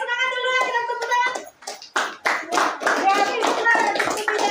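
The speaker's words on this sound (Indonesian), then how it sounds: "semangat dulu ya, kita tepuk tangan." A classroom group claps hands together in a teacher-led cheer, a burst of overlapping claps mixed with children's voices and chatter after a teacher speaks.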